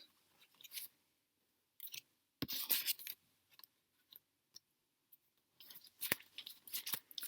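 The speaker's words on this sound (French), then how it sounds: "Ça fait des bruits bizarres quand je tire les cartes" Tarot cards are drawn from a deck in a quiet room, giving scattered soft scraping, rustling and snapping bursts, with a sharper flick near the middle and a flurry of card sounds at the end.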